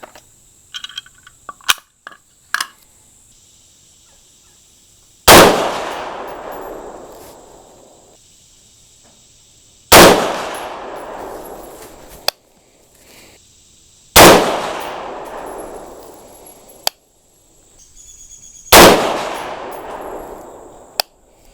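Rifle fired during a scope base mounting location accuracy test: four loud, sharp single shots spaced several seconds apart, each with a long decaying echo, plus a few small clicks and handling knocks at the start.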